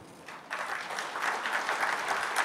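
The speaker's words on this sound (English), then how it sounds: "I would like to clap again for his wonderful speech" Audience at a Rohingya community gathering applauds after a speech, a steady, dense clapping that swells slightly and continues throughout with no voices over it.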